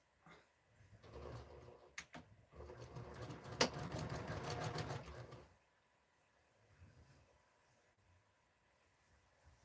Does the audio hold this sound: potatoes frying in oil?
no